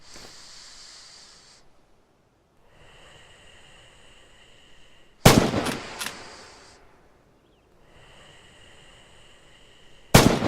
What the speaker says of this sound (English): This is the standard Kar-98 with a sniper scope fitted.